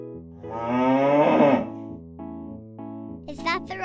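A drawn-out cow moo sounds over light background music, followed shortly by a brief voice.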